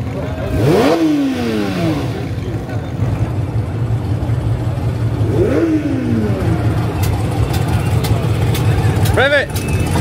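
A car engine revs hard as it leaves the SEMA 2024 show. Three separate sharp rev blasts rise and fall over a constant idling rumble and crowd noise, and people shout nearby.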